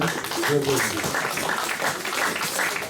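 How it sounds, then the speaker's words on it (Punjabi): A church congregation claps to welcome performers to the stage: a steady wash of applause lasting the whole moment, with voices murmuring underneath. "ਤਾੜੀਆਂ ਨਾਲ ਸਵਾਗਤ ਕਰੋ ਇਹਨਾਂ ਦਾ।"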